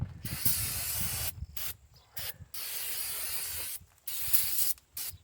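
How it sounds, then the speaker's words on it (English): Brake cleaner sprays in several bursts of loud, steady hiss onto the rear brake parts of a 2003 GMC Sierra 1500 pickup, with short silent gaps between them and no talking. "So just douse it with brake cleaner."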